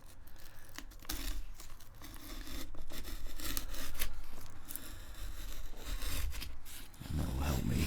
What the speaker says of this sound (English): I've got the chisel resting on my fingertip, got all the other fingers locked onto a strut.